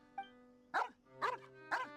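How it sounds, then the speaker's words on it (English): Three sharp, close barks from a dog in the Genshin Impact video game come at a regular pace, each one short and clear, following a faint higher yelp at the start; nobody speaks. "What are you barking at?"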